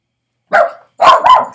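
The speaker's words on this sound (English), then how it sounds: "Puppy's barking." A puppy gives two or three sharp, loud barks close by, a single bark followed by a quick double bark after a short pause.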